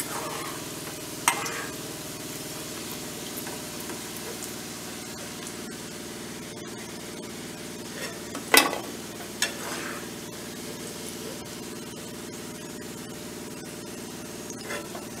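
Pieces of sweet shakarpare dough fry in oil with a soft, even bubbling hiss. A few louder clinks and scrapes from a utensil stand out now and then, close by and with no talking.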